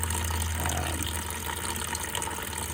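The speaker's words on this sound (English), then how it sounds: "we're getting a steady flow of water out there" Water flows steadily through a bath overflow pipe down into the waste of a 1700 bathtub, a constant rushing, gurgling hiss close to the listener.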